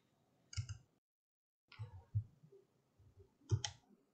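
Three separate clusters of sharp computer mouse clicks in Rhino 7, each a quick double tap, spaced with short quiet gaps, close and crisp with no talking.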